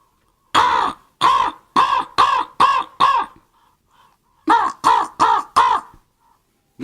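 A harmonica mimics a crow's cawing in two bursts of sharp, raspy caws, six and then four in even rhythm, played close and loud with a brief gap between the runs.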